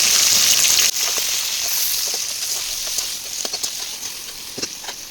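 Chopped onions hit hot oil already holding cinnamon, cardamom and bay leaf for a chicken biryani, giving a loud hissing sizzle that drops sharply after the first second and then crackles and spatters steadily.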